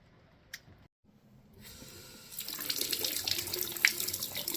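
Water running from a bath tap to fill a warm soak, starting after a brief quiet and a small clunk, then a steady, fairly close splashing stream that builds and holds.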